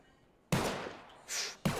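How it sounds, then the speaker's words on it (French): Gunfire in the Garry's Mod DarkRP video game: two or three sharp, loud shot bursts with a hissing tail between them, with no talk over them. "Je crois que les coups de feu se rapprochent, monsieur le maire."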